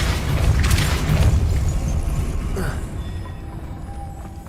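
Casting Depulso in Hogwarts Legacy brings a heavy, booming magical thrust with a rumbling push of force, loud at first and easing off into a softer tail.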